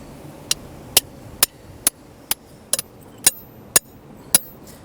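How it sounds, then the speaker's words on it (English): Steel hammer blows strike a bar wedged into bedrock while opening a crevice, about ten sharp metallic impacts at irregular intervals, close and distinct against a quiet background. "I'm going to go down on this side with my bar and my hammer and see if I can break this chunk"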